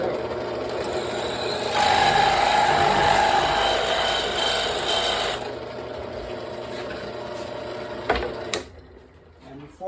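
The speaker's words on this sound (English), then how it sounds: "Let's drill these out." Power drill boring holes in a lift-gate section of a model railroad layout on a workbench, a steady whirring drill run lasting a few seconds, then stopping, followed by a few brief handling clicks.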